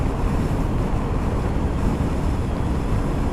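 Wind roars steadily against the microphone during a road journey back to Bangkok, a loud, constant rush with no speech.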